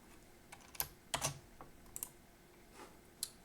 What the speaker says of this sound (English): Then I type whatever I felt today.